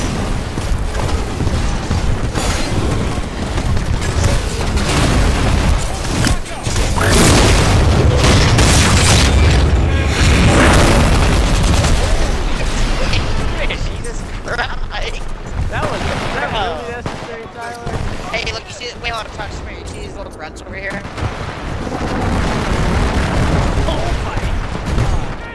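In the video game Titanfall 2, robot Spectres open fire and explosions go off, making loud, continuous gunfire and booming blasts throughout, with a voice faintly mixed in.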